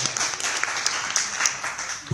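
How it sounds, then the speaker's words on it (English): A round of applause from a small audience at a virtual reality community meetup, brisk, close clapping that fills the moment and then tapers off. "Please give a round of applause."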